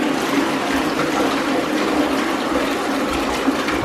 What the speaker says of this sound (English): It says you can flush this down the toilet.